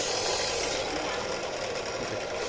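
A power drill boring into a steel knife blade in a metalworking workshop, a loud continuous grinding whine that holds steady and close throughout with no break.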